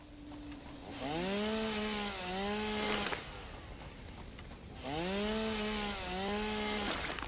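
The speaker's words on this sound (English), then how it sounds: "Let's just chainsaw this stuff while we're out and about." A chainsaw in Satisfactory cutting through vegetation in two long bursts, each whining and rising in pitch as it bites, separated by a quieter idle gap.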